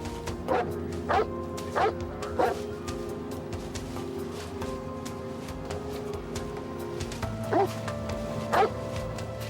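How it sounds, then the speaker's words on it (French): A sniffer dog barks in short evenly spaced yips, a pair early and another pair near the end, over a steady humming background. "Un chien renifleur se mit sur leur piste."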